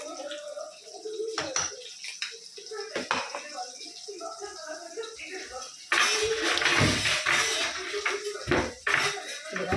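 Crushed green chili and garlic thecha goes into a hot pan of tempered cumin and mustard seeds, giving a louder burst of sizzling and spatula scrapes against the metal pan partway through, with kitchen clatter throughout.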